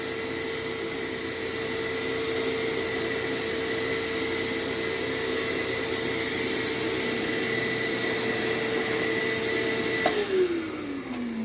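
An Eureka Mighty Mite canister vacuum runs on living-room carpet with a steady close whine and airflow roar, the motor pitch dropping slightly near the end.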